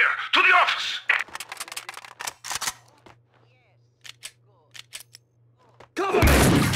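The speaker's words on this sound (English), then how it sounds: "I can still hear gunshots!" Gunfire in the video game Max Payne 2: loud rapid bursts of shots at the start, then scattered sharper single cracks, ending in another heavy burst, with game voices mixed in.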